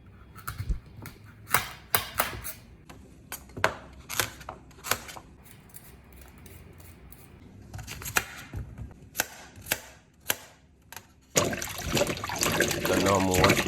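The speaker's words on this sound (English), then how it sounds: "So now I'm washing them." Chopped carrot, chocho and pumpkin being washed in water: a sequence of sharp splashes and clinks from pieces dropped and rinsed, ending in a longer run of sloshing and running water close by.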